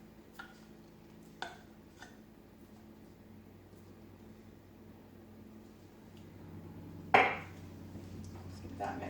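Peanut butter and corn syrup get stirred in a pot over medium heat, with a few faint spoon clinks against the metal, then one sharper scrape and knock.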